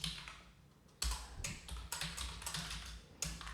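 Quiet keystrokes on a computer keyboard in short clustered bursts separated by brief pauses, close and clear with no voices.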